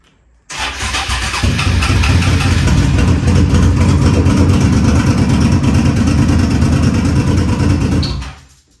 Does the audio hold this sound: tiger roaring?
no